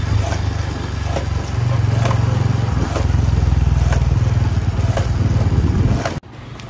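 A Pulsar N160 motorcycle engine idles loudly up close with a harsh mechanical rattle from a worn chain and sprocket and regular clacking ticks, then cuts off abruptly near the end.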